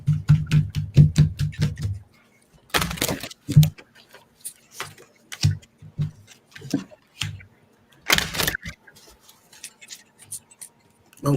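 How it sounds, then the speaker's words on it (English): A deck of playing cards being shuffled, heard as bursts of quick riffling flutters separated by short pauses and small taps, close and fairly quiet. "The cards just almost don't even want to shuffle."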